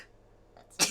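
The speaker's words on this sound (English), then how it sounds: "now I'm going to sneeze." A single short sneeze bursts out at the very end after a moment of quiet breathing, close and sharp.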